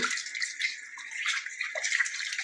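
Running water splashes steadily over raw fish being washed in a kitchen, a close, continuous rushing wash with no voices.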